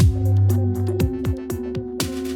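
A short music loop in Ableton Live with its low end cut by a low shelf EQ, leaving lighter bass pulses and percussive ticks in a steady rhythm, close and clear with no talking.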